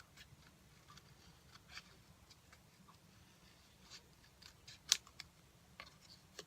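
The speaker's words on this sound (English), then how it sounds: "we're gonna take your scissors and you're gonna kind of cut out like a mountain effect with it" Scissors snip through red foam while a mountain-shaped edge is cut out for a shaker ornament, giving soft, close, intermittent clips and rustles in a quiet room with no talking.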